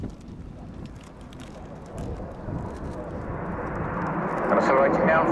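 Eurofighter Typhoon FGR4 fighter jet of the Royal Air Force accelerating with reheat for a high-speed pass at an airshow display, a broad roaring rush that builds steadily louder and brighter toward the end.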